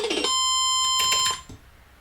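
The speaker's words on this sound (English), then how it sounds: "I don't know why that beeping sound came from, where that came from right now" A steady electronic beep tone sounds for about a second, loud and close, mixed with short clicks and taps before it cuts off, leaving faint background noise.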